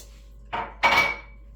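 Walnuts being stirred into a pan of homemade fudge, heard as two short scraping, clattering bursts of spoon against pan with quiet pauses between them.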